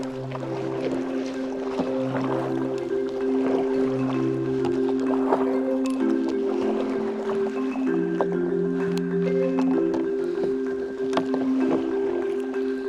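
Kayak paddling on the water at Periyar, a steady outdoor wash of wind and water with soft repeated paddle strokes, while low droning tones persist underneath.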